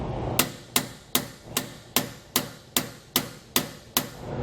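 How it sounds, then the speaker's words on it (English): Steel hammer tapping a bolt into a suspension hanger while fitting a Dexter E-Z Flex kit on a 2006 Jayco Select camper: ten sharp, evenly spaced metallic strikes close by, with no talk. "we're going to keep tapping it until we get it in"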